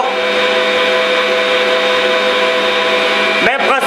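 A stand mixer kneads savarin brioche dough with a loud, steady motor whine and hum, close up, then slows and stops near the end with a brief falling pitch.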